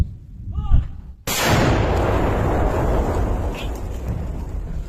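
A single huge boom from a 2S1 Gvozdika self-propelled howitzer erupts after a brief moment of quiet, followed by a long rumbling roar that slowly fades.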